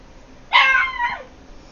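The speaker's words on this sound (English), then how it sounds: "Sorry about the puppy, guys." A dog barks in the hunting video game The Hunter: Call of the Wild, set in the Yukon Valley: a single loud, close yelping bark that trails off into a short whine, heard alone.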